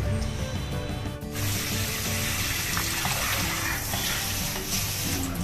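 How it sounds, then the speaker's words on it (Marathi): Fresh fish, rawas (Indian salmon) and bombil, being rinsed under running water in a home kitchen, with a steady splashing tap stream and water sloshing close by, continuous throughout with no talking. "जरा नुसतं पाणी धुवून काढतो आणि ठेवतो"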